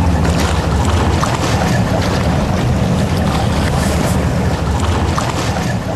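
A boat on an Italian lake makes a steady rushing noise with wind buffeting the microphone, loud and continuous throughout, no voices.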